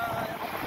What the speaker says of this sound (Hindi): इस रोड में बहुत हवा चल रहा है,